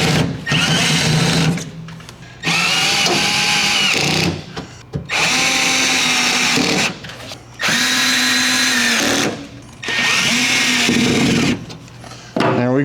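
A power tool tightening emblem fasteners on a 1975 Monte Carlo, buzzing in loud bursts of a second or two separated by short pauses, close and alone.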